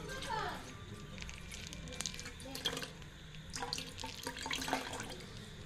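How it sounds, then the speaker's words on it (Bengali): Milk is poured into a container in a home kitchen, a thin liquid splash with scattered clinks and small knocks, fairly quiet against room noise, with a voice speaking over parts of it. "দুধটা ঢেলে নিই।"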